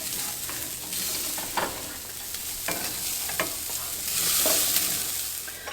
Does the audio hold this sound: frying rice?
yes